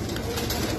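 Turtle doves coo nearby at an animal and bird market, a soft, low, rounded call repeating in a brief burst with no voices.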